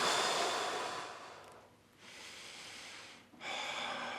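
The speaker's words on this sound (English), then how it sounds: "Same thing, 3 to 5 slow, deep breaths." Slow, deep breathing during a runner's hip stretch, with long airy exhales and inhales close to the mic. Three full breaths rise and fall with quiet pauses between them, and no talking.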